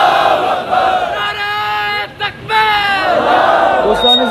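A large crowd at a political rally in Pakistan roars a loud, sustained chant in unison answering a leader's Takbir call, with two rising waves of voices and a brief dip between them.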